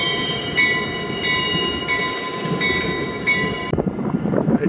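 A passenger train backs slowly into the station at Steamtown, a diesel locomotive's engine rumbling with a repeating high tonal whine or squeal from the wheels, then a burst of clanking and rattling at the end.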